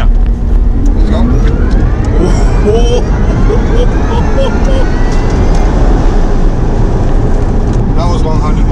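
Rimac Concept One electric hypercar accelerating hard from inside the cabin, a loud continuous rising whine and road roar with rising harmonic sweeps throughout, with occasional voices.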